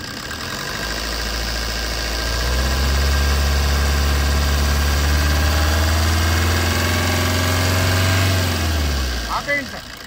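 A 2012 Maruti Swift VDI diesel engine runs close by, its deep drone rising as it is revved and held high for several seconds before settling back toward idle.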